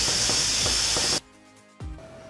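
Pressure cooker venting steam in a loud steady hiss that cuts off abruptly, then a brief clunk and a faint tone follow, close by.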